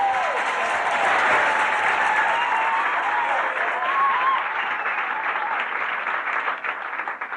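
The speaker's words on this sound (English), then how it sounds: "Let's have a big round of applause." A 1987 television studio audience claps loudly and steadily for a comic musician, a dense sustained round of applause that thins slightly toward the end.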